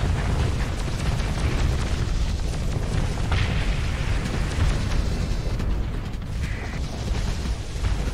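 Missile explosions in the space combat game Starsector with the Nexerelin mod, a dense, continuous rumble of booms and bursts that stays loud and even throughout, with no talking.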